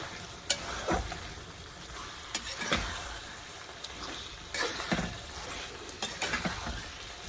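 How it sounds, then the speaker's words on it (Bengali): Masala spices fry in hot oil for chicken, giving a steady, close sizzle and crackle with occasional scrapes and clacks of a spoon stirring in the pan, and no talking. "মশলা খুব সুন্দর ভাজা হয়ে গেছে"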